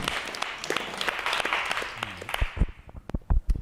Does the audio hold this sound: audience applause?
yes